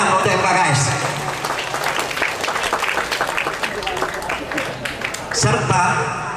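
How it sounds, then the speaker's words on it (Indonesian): Applause from an audience at an education awards and social service event in Sungsang, Banyuasin, a dense, steady clatter of many hands filling the room, swelling slightly near the end. "Tepuk tangan untuk MKKS."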